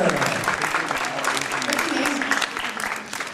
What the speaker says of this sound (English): Round of applause for our next winner.